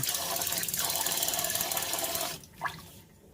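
Rice grains being swirled and rinsed by hand in water in a pot for an evening meal, a steady wet rustling and sloshing that stops abruptly, then a brief splash.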